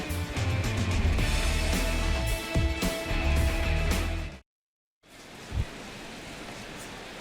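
Rain falling steadily over a baseball stadium during a Padres versus Nationals night game, a dense broadband hiss that cuts out briefly, then returns softer with a few scattered drops.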